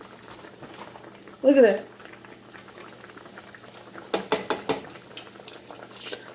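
Country fried steak pieces dropped into hot oil give a steady, bubbling sizzle, with a few quick clatters of pans or utensils near the end; a person speaks briefly over the frying.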